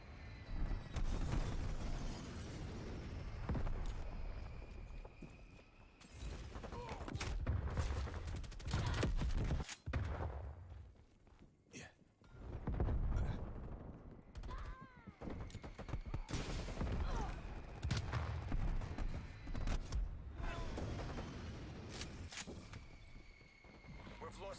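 Rapid gunfire from a strafe run rattles through a Call of Duty Cold War multiplayer match, with dense bursts and booms rising and falling amid game chatter and voices.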